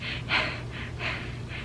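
Heavy, audible breathing from a heavily pregnant woman at 31 weeks taking a breath break, with several rhythmic breaths repeating at close range, one stronger gasp-like inhale near the start, no talking.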